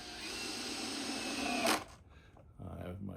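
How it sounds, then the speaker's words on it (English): A power screwdriver whirs steadily as it drives a screw into a wooden beehive super, then cuts off abruptly; a brief rattle and a voice follow. "I have my screwdriver right now set on, looks like 2."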